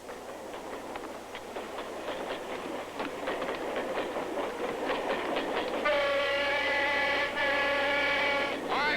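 A train rolls along the rails with steady rhythmic clatter, then a loud, sustained horn blares over the rumble near the end.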